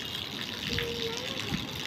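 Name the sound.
water flowing into a filling water tank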